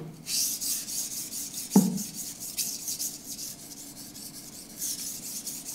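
A Chinese knife blade rubs back and forth on a whetstone in repeated rasping strokes, close and moderately loud, with one soft knock partway through.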